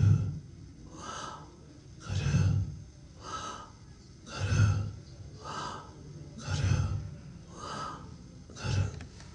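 Slow, deep meditation breathing with the belly pushed in and out, about eight steady cycles of breath that rise and fall in an even rhythm. Close and fairly quiet, with no other sound.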